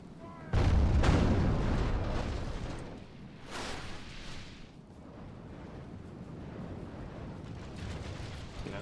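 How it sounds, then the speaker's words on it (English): Artillery bombardment in the video game Third Age: Total War, a siege of city walls: a heavy, booming volley up close, then further blasts and a sustained rumbling din of battle. "Right, begin the artillery."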